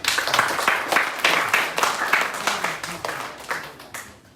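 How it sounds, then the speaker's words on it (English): An audience at a Philadelphia awareness event mixer breaks into a round of applause, dense clapping that swells and fades in waves before tapering off at the end. "Got to give a round of applause for that."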